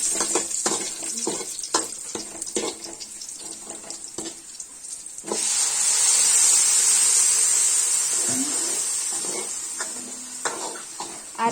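Curry leaves fry in hot oil with a close sizzle and crackle, punctuated by stirring clatter, before a louder, steadier hiss surges and slowly fades.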